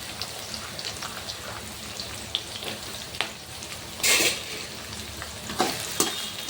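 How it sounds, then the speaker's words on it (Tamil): Fennel seeds, green chili and onion fry in hot oil over a raised flame, giving a steady crackling sizzle with brief louder bursts of spatter and stirring. "இந்த பெருஞ்சீரகம் போட்டுக்கிறேன் பச்சை மிளகா வெங்காயம் இதை சேர்த்து ஃப்ளேமை கொஞ்சம் கூடுதலாக்கிடலாம்"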